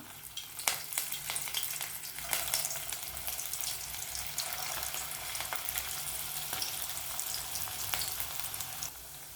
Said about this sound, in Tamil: இப்போ எண்ணெயில் போட்டு ஃப்ரை பண்ணி எடுத்துக்குவோம்